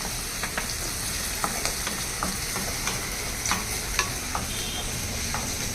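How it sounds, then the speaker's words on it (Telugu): Ginger garlic paste fries in a pan while being stirred, a steady close sizzle with scattered light scrapes and taps of the spoon, no talking. "అల్లం వెల్లి పేస్ట్ పచ్చివాసన పోయేంత వరకు ఇలా వేగించాలి"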